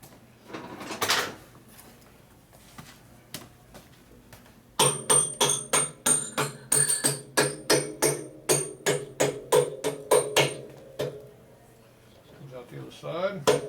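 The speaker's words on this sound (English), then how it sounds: "Beat the axle in." Axle being hammered into a motorcycle wheel on a custom Harley bobber chopper: a steady series of about fifteen sharp metallic blows in even rhythm after an earlier isolated knock, with faint talk in places.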